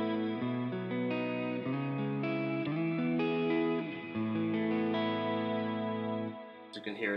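Electric guitar played through a Line 6 Helix with a larger reverb setting, sustained chords ringing one after another with a wide, washy tail, moderately loud and alone, ending in a brief click.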